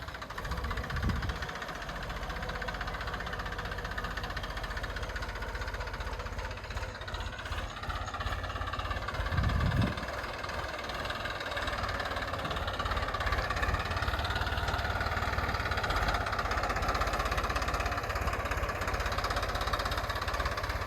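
A tractor engine runs steadily while forming a bund in a coconut garden, a low continuous drone at moderate distance with a couple of brief knocks or clunks, no talk over it.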